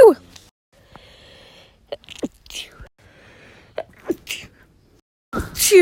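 Close sneezes burst out at the start and again at the end, with soft breathy whispers, sniffs and small gasps in the quiet stretch between.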